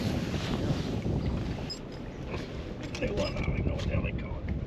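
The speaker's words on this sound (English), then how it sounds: "the wind's blowing right in here" Wind blows steadily across a lake during a bass fishing outing at Lake of the Ozarks, a continuous low rumble of wind noise on the microphone with faint water and boat sounds.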